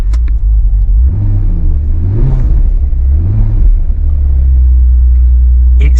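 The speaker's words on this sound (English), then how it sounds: "let's hear what it sounds like from the cabin when we start it up" A 3.2 VR6 engine in a mk1 Audi TT cranks and fires up inside the cabin, revving through a couple of rising swells before settling into a deep, loud steady idle.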